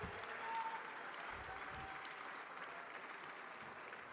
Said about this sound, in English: Please give them a warm round of applause as I introduce them, in no particular order.